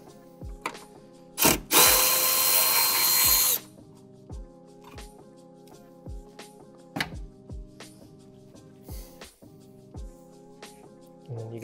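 A power tool loosens the bolt on the power steering hose bracket of a 1986-1993 Fox Body Mustang 5.0, with one loud two-second whirring burst and short clicks and clanks of handling around it.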